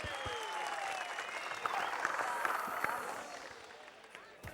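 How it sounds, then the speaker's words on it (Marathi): An audience gives loud, dense applause at a public event that swells in the middle and then slowly fades, with some talk mixed in. "खरंच मनापासून जोरात टाळ्या,"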